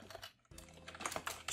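Rapid typing on a computer keyboard while entering an account name in sales software, a close, quiet run of key clicks with a brief pause before a denser burst.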